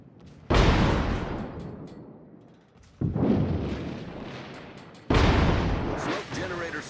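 Warship artillery in a naval video game fires three heavy, booming salvos about two to three seconds apart, each a sharp blast trailing off into a long rumbling decay.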